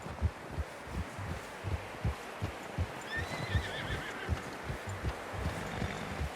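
A horse in the Red Dead Redemption II video game clip-clops with steady rhythmic hoofbeats throughout, and a thin whinny rises partway through over a noisy outdoor background.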